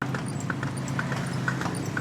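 Horse hooves clip-clopping along a road in a Manila street, a steady, evenly spaced trot of sharp hoof strikes over a constant low traffic rumble, with no talking.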